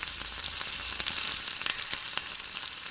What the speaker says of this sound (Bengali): কাঁচা লঙ্কা, তেজপাতা, এটাই ফোড়ন দেওয়া হলো